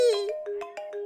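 Mobile phone ringtone playing a bright electronic melody of repeated tonal notes with a sustained tone underneath, loud and close, sounding alone.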